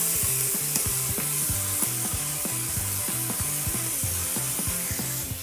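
Carrots, celery and onions sizzling in duck fat in a pressure cooker pot, a steady close frying hiss with regular rhythmic clicking or stirring ticks throughout.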